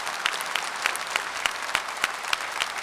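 Rhythmic audience clapping in unison at a Tamil talk event, loud sharp claps falling about every third of a second in an even, regular beat.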